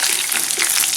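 Pieces of batter-coated chicken deep-frying in hot oil over a high flame give a steady, close, bright hiss of crackling bubbles with no pauses.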